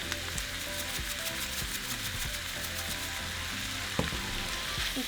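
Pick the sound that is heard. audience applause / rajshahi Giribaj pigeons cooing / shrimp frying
shrimp frying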